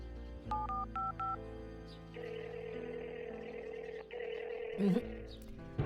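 A phone call in a cartoon: a few beeping keypad tones, then a steady electronic ringing tone that drones on unanswered with no pickup.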